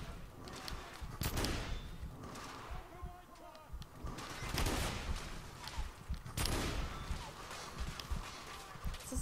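Gunfire from the video game The Order: 1886, a few loud, booming shots standing out over a dense, noisy game soundscape, with people talking over it.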